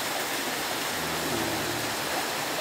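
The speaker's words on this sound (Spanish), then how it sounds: "el río que tenemos acá es esto, ¿no? Es esto que viene acá." The Xayá river rushes and flows near where a small creek joins it, a steady, full hiss of water with no breaks and no talking.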